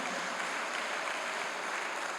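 A church congregation claps together in a steady wash of applause, moderately loud and continuous, with no voices standing out.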